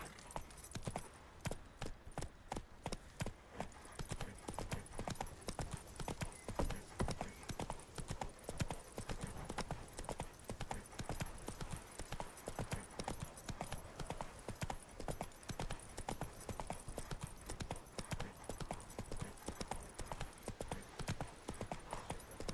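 Roach, the horse in The Witcher 3, trots with steady rhythmic hoof clip-clops that run on close and even for over twenty seconds, fairly quiet overall.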